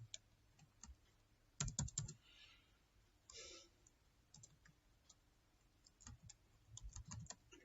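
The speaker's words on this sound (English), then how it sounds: "we draw text box, and type revision" Keys clatter on a computer keyboard during a computer studies practical, coming as short bursts of quiet clicks separated by pauses, fairly close and faint, with no voices.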